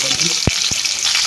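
Urad dal, cumin and green and dry chillies frying in oil in a pan, a steady close sizzle with two brief stirring clunks.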